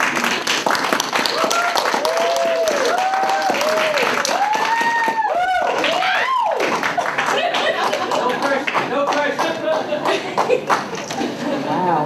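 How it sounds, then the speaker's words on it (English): Lively clapping from a poetry night crowd welcomes featured performer Alysia Cosby, mixed with loud whoops and cheering voices that rise and fall over a dozen seconds. "So please applaud as loud as you can."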